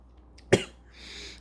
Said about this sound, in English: I'm a bit sick, I'm gonna cough.